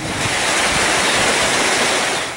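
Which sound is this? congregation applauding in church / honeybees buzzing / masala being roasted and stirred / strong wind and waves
strong wind and waves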